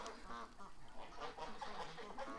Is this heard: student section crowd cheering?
no